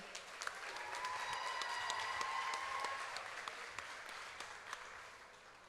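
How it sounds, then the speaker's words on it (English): A pageant audience claps for a runner-up at the Choctaw Nation princess pageant. The applause is fairly faint and distant, swells in the middle and then thins out, with a few nearer claps standing out. "And another round of applause for Aaliyah."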